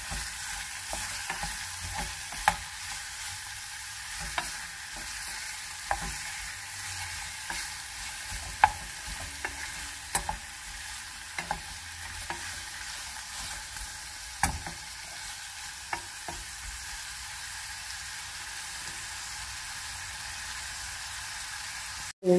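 Prawn heads pressed and scraped in a hot frying pan, a steady close sizzle with repeated soft scrapes and taps of a utensil throughout, ending in a sharp knock.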